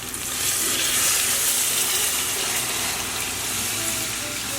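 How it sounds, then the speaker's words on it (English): Water poured into a hot frying pan hisses and sizzles loudly, a dense, bright crackling that holds steady for several seconds. "And now we add the water."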